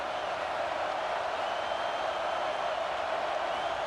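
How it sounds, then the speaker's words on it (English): Steady, dense roar of a stadium crowd during a college football game in College Football 26, a continuous wash of noise with no breaks or peaks. "The crowd is roaring, trying to help this defense on fourth down."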